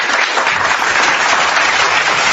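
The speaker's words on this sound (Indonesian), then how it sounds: "Tepuk tangan untuk itu" Loud, dense clapping from a large audience at a religious gathering, a continuous close wash of applause with no pauses.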